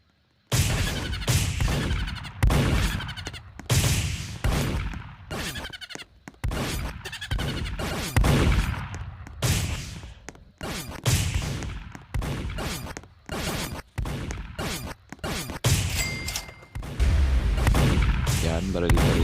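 Revolver shots crack out repeatedly in a Skibidi Toilet video game, loud bursts coming in irregular clusters alongside other game noise and someone talking over the action.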